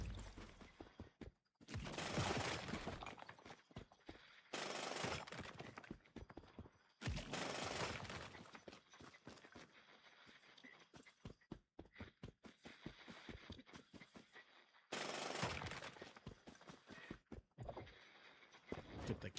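Bursts of gunfire in the video game Once Human: several dense volleys of rapid shots, each lasting a second or two, separated by quieter gaps with scattered single cracks and faint background noise.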